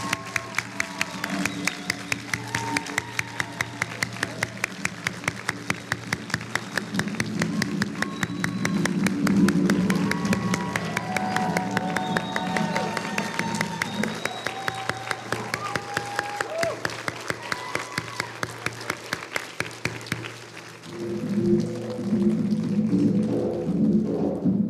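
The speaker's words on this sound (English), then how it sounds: "please, a last round of applause for these remarkable graduates" Graduates at the 2022 School for Cultural and Social Transformation convocation receive a final round of audience applause, a sustained clapping wash over a steady tonal background lasting over twenty seconds, with a brief dip near the end.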